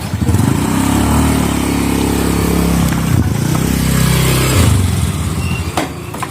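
A motorcycle engine idles and revs nearby, a loud rough low-pitched rumble that rises and falls in pitch with each throttle change before easing off near the end.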